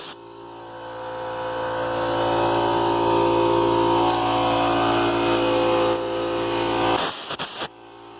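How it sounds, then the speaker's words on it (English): An air compressor motor runs for several seconds with a steady, droning hum close by. Near the end it cuts out, followed by short clatters of noise. "Compressor kicked in."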